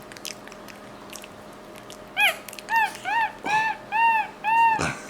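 A monkey bites into and eats a banana, making about six loud, evenly spaced wet bites and squelching chews up close after a quieter start.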